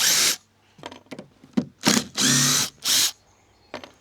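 A power drill backing screws out of rotten decking boards, several short loud whirring bursts separated by pauses, close up.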